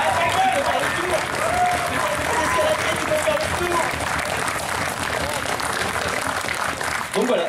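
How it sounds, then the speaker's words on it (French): A convention audience at BronyDays 2015 in Nantes applauds in a dense, steady wash of clapping that lasts the whole stretch, with voices and cheers mixed into the crowd noise. "Applaudissez."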